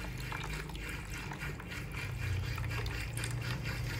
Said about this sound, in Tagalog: So lagyan natin ng tubig. Dito sa ibabaw, kasama ng yelo.